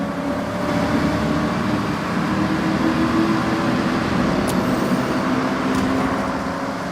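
Loud, steady car engine roar reverberating inside a tunnel in the video game Forza Horizon 6, a dense continuous drone with no speech.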